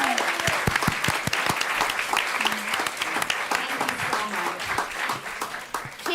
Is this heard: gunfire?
no